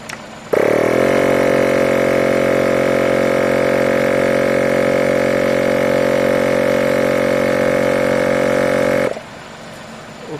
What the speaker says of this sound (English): Now let me operate the pump.